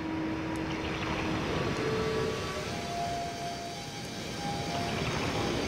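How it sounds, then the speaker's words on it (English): Thin, eerie whistling tones drift and shift in pitch over a steady airy rumble, like wind keening through an enclosed space, as video game wind blowing through crystals in Myst's Selenetic Age. "There's a strange whistling sound. Seems to be the wind blowing through these crystals, perhaps."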